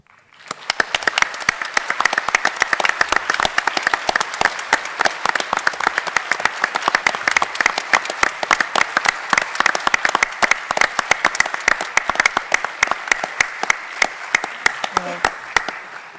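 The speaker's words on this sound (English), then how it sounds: "I feel quite sad interrupting the clapping" Sustained audience clapping after a talk at an event on neurological conditions and palliative care, dense and steady for the full stretch, fading only near the end.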